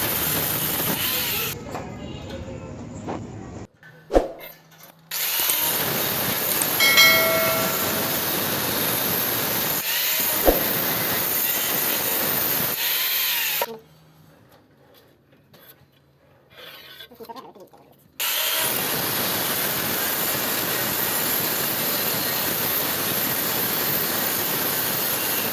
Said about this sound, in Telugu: పొడవు వెడల్పు కొలతలు తీసుకొని మనం మిషన్తో అయితే వీటిని అన్ని కటింగ్ చేసుకోవాలండి